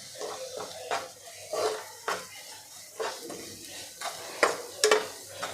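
Onion with salt, turmeric and ginger garlic paste is sautéed in a pan for chicken curry: a soft sizzle under regular close spatula scrapes and clanks against the pan.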